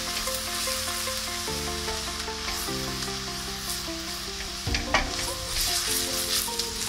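Oil bubbles and sizzles steadily in a pan after paneer was fried in it, a dense continuous hiss with soft crackles, briefly disturbed by a clatter near the end over a faint music bed.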